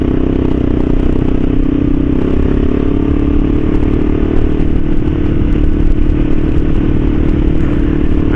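Kawasaki KLR dual-sport motorcycle, fitted with a Shinko 244 front tire, rolling over loose gravel in the middle of Jerry Ridge Road, its engine droning steadily with a constant crackle and clatter of stones beneath the tires, loud and close throughout.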